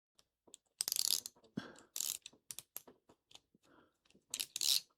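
Rapid bursts of clicking from a bit-holding ratchet in several uneven runs, close and crisp, with short pauses between strokes.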